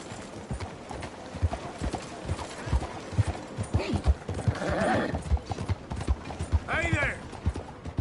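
Horse hooves clip-clopping at a steady walking rhythm in Red Dead Redemption 2, close and continuous, with a short whinny and soft gear-like creaks over it.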